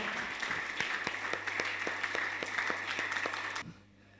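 A church congregation at a camp worship service claps in steady rhythmic unison over a sustained background tone. The sharp, evenly spaced hand claps carry on for several seconds, then stop abruptly into quiet.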